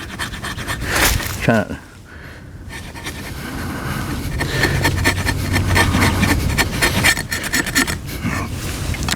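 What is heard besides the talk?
ESEE Junglas knife spine scraping wood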